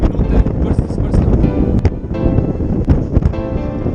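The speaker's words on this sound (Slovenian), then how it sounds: "toliko veter piha, da te zanaša" Strong wind buffets the microphone on a ski slope at Kronplatz, a steady loud roaring rumble throughout with gusting swells, mixed with a voice speaking over it.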